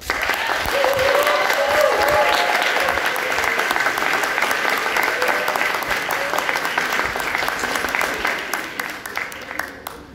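Sustained, close applause from an audience at a formal Spanish-language gathering, loud and even for most of its length before tapering off at the end.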